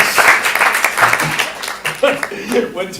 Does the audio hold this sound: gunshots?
no